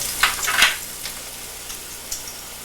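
Pressed garlic is added to a hot frying pan, with a few sharp sizzling bursts and stirring scrapes before settling into a steady, faint sizzle.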